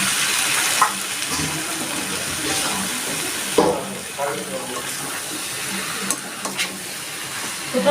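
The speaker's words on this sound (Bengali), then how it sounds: "আমি এবার জল দিয়ে দিচ্ছি" Water pours into a cooking pot of jackfruit and potatoes in spice paste, a steady rushing hiss broken by a few clinks and stirring sounds, with some talking.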